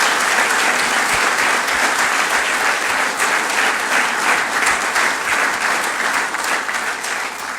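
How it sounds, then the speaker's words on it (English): An audience at a 2016 Andover Athletics Hall of Honor induction ceremony applauds, sustained dense clapping from a large crowd, loud and steady throughout and easing slightly at the end. "I'd love to have a big hand for all those coaches and teammates and players and family members who have supported these athletes"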